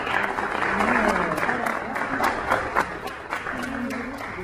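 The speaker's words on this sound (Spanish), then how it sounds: "Un fuerte aplauso porque es ya casi de sus últimos días." Audience applause at a church gathering, a steady wash of clapping running the whole time under someone speaking in Spanish over a sound system.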